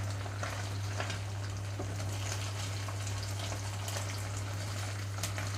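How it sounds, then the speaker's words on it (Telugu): Egg frying on high flame in a pan for vegetable egg fried rice gives a steady, close sizzle with a constant low hum beneath it and no talking. "హై ఫ్లేమ్లోనే ఉంచి రెండు వైపులకి తిప్పుకుంటూ నీచు వాసన పోయే వరకు వేయించుకోవాలి"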